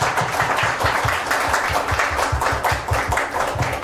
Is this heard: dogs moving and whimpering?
no